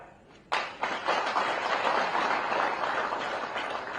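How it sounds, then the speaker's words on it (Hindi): An audience bursts into applause during a political speech, with a sudden loud onset of clapping that holds as a dense, steady wash. "ये सिर्फ ताली बजाने का विषय नहीं है"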